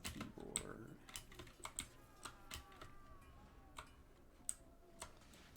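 Computer keyboard keys pressed while playing Prince of Persia: The Sands of Time on PC, with quiet, irregular clicks and taps, some in quick bursts and others spaced apart, close to the microphone.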